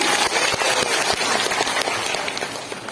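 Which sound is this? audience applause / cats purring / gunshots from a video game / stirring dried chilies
audience applause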